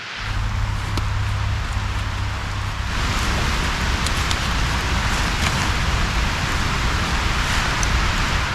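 Steady rain patters on a tarp shelter outdoors, a dense continuous hiss with scattered drop taps, loud and unbroken throughout with no talking.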